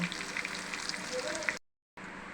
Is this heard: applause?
no